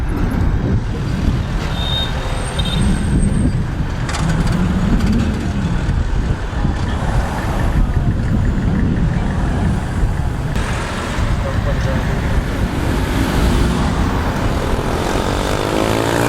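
Road traffic rumbles steadily past a traffic-directing robot, a continuous loud mix of engine drone and tyre noise with vehicles passing close by, and no talking.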